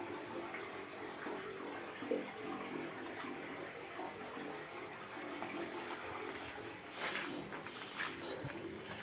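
Spring water bubbles and flows into a bathing pool at the Three Streams spring near Lyudinovo, making a soft, continuous watery rush with faint outdoor background sounds.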